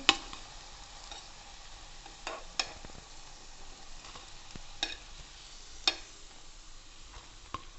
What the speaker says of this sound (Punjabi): ਆਪਾਂ ਸਾਰੇ ਇਸ ਤਰ੍ਹਾਂ ਇਹਨੂੰ ਫਰਾਈ ਕਰ ਲਾਂਗੇ